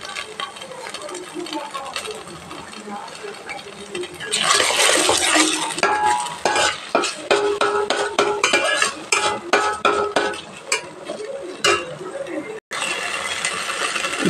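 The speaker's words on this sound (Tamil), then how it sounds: "இப்போ நான் சுகர் கலந்துக்கிறேன் கொஞ்சமாக." Sugar being stirred into gobi manchurian sauce in a pan, a busy run of scraping, clinking spoon-on-metal strokes that turns loud and rapid partway through, with a brief drop near the end.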